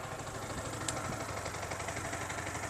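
Yamaha R15 V3 motorcycle engine idling right after an electric self start, a steady, quiet low mechanical hum with a faint even pulse and a brief tick, heard alone without speech.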